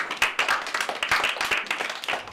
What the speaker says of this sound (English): You can give yourselves a clap for getting a marble.